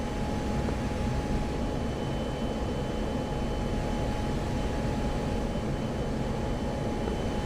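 An F-16 jet sits on the runway just after landing at night in the DCS flight simulator over Afghanistan, its engine giving a steady, even roar that holds unbroken throughout, with no speech.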